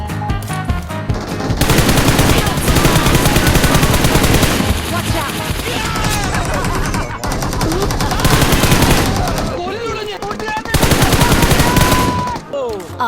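Loud gunfire with bullets being shot in long, rapid automatic bursts separated by brief pauses, the dense crackling fire dominating throughout.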